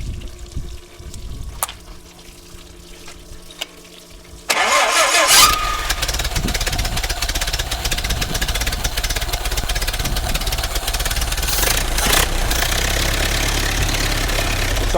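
The engine of a 1931 Ford Model A Woody Wagon, rebuilt and mounted on a dyno, cranks and fires after a few seconds of quiet clicks. It settles into a loud, steady, slightly loaded idle.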